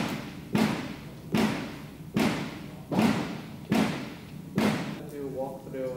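A war bow shot repeatedly during an archery workout, giving six evenly spaced sharp thumps roughly a second apart, each with a brief decaying tail, close and clear, with a faint voice at the end.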